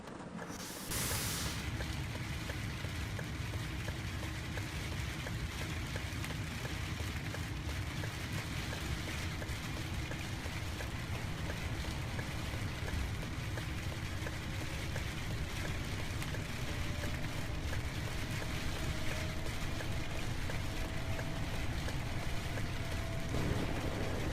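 Heavy rain effect in the PC and Mac game Bus Driving Sim 22, a steady dense hiss of rainfall with a faint low mechanical rumble beneath, continuous and even for the whole stretch with no voices.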